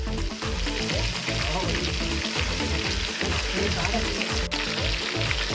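Quail pieces sizzle and fry steadily in a pan, a loud continuous crackle close by with no pause.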